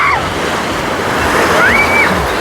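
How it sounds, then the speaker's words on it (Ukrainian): Sea surf rolling in at Odesa, a steady broadband wash of waves that fills the whole clip, with a faint rising and falling tonal sound briefly audible above it. "Одеса, море."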